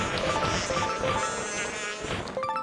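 Hornets in the video game Zelda: Skyward Sword HD buzz steadily and close, a continuous droning hum with wavering pitch and no talking.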